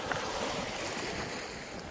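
Sea waves on the Korean west coast rolling onto a rocky shore in a continuous, loud wash of surf, with wind buffeting the microphone and no voices.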